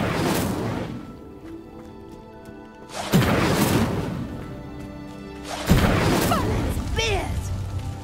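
Incendio fire spell in Hogwarts Legacy bursting into flame to ignite a pyre, heard as two loud whooshing blasts a few seconds apart, each trailing off into crackling hiss over a low rumbling game ambience.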